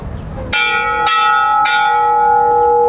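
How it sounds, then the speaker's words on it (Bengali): Large bell at a Shiva temple rung three times in slow succession, each loud metallic strike ringing out with a long sustained tone that overlaps the next, with no speech. "ঘন্টাটা দেখো কত বড় ঘন্টা"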